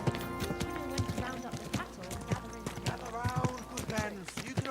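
Horse hooves clip-clop at a walking pace in the video game Kingdom Come: Deliverance II, a steady rhythmic beat of close strikes beneath a voice and background music.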